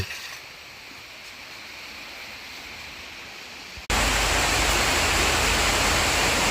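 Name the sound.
heavy rain falling on a sheet roof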